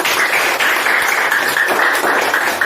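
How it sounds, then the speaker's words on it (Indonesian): A classroom of young pupils clapping together during a morning lesson, a dense and loud patter of hands carrying on steadily with a noisy room tone underneath. "Tepuk tangan."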